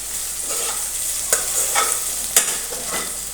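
Okra (bhindi) stirred and fried in a pan on a gas stove gives a steady, close sizzle, broken by a few sharp spatula scrapes against the pan. No voices are heard.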